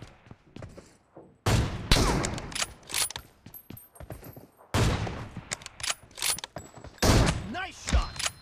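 Gunfire from an M24 sniper rifle in PUBG Mobile: three heavy booming shots spaced a few seconds apart, each followed by mechanical bolt clatter, with talk in between.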